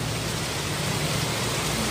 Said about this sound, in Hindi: फिर ये तो रोज आती है बारिश